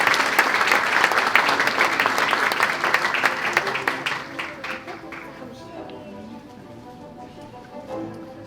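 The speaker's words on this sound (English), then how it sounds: "Please welcome her with a big round of applause." Applause from a graduation ceremony audience swells loudly for a few seconds after a graduate is introduced, then thins and tapers off into scattered claps and quiet room sound.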